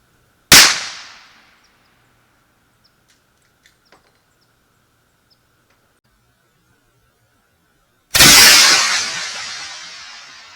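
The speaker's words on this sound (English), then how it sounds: "4570, 305 grain extreme penetrator from Underwood Ammo versus aspen logs." Two loud, sharp .45-70 rifle shots about eight seconds apart, firing 305-grain Underwood Extreme Penetrator rounds into aspen logs outdoors, each blast ringing out with a decaying echo and near silence between.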